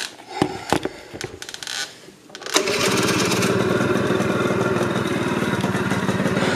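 A 1988 Honda Elite scooter, wrecked and broken down, sputters through a few uneven pops and clatters before catching and settling into a steady, loud, close idle with the idle set slightly too low.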